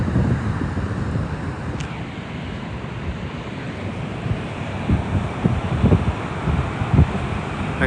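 Wind gusting at Fig Tree Bay beach in Protaras, Cyprus, on a blustery day with choppy sea, a steady roar of wind noise buffeting the microphone with surf rumbling underneath, no voices.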